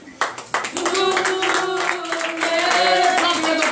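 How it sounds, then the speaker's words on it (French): A church congregation at a morning prayer service in Benin claps in acclamation, sharp rapid hand claps from many people blending into steady, lively applause nearby. "Je demande au peuple de Dieu de se lever sur les pieds et de redevouer l'acclamation à notre Seigneur Jésus."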